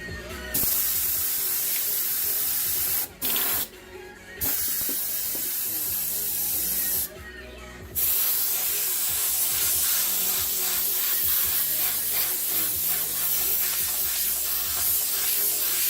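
Airbrush spraying paint onto a crop-top t-shirt through a stencil gives a loud, steady hiss in long bursts, broken by a few brief pauses as the trigger is released.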